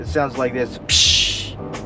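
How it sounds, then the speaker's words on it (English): A car's turbo blow-off valve, fitted with a Cayenne drop-in filter, vents in one loud, sharp hiss lasting about half a second, right after someone speaks briefly nearby. "now you could really hear the blow-off valve, which is really good"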